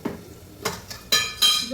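Ground masala paste is added to cooked tomatoes and stirred in a pan, giving several scraping stirs and spoon-against-pan knocks over a light sizzle, with the strokes getting louder toward the end.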